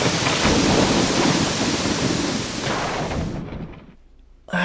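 Heavy rain pours steadily with rolling thunder, loud and close, then drops off abruptly into near silence before a brief burst returns at the end.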